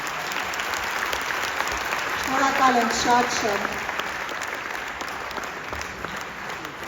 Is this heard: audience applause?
yes